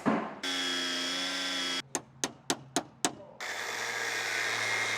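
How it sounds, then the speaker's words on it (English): An angle grinder runs loud and close against bolted nuts on metal, whining steadily, then cut into five or six sharp bursts before settling back into a continuous high grinding drone. "I think I'm just gonna take that angle grinder and see if I can cut these nuts off."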